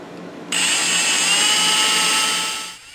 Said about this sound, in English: So with my handheld drill